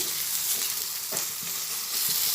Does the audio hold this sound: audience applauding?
no